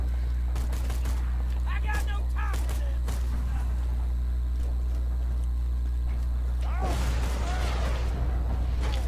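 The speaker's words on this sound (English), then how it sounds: "Why are you shooting at me?" Rapid bursts of gunfire in the video game Borderlands 2, sharp cracks in quick clusters over a heavy low rumble, with a busier flurry of shots near the end and voices talking in between.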